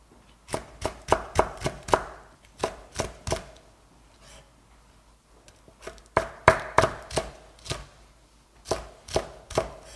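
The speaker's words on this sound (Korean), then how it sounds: "엎어놓고 썰어 보세요. 그러면 칼질이 잘 될 거예요." A knife chops vegetables into thin strips rapidly on a cutting board in quick bursts of sharp taps, pausing briefly before resuming the brisk, even rhythm.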